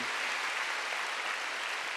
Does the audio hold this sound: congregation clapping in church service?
yes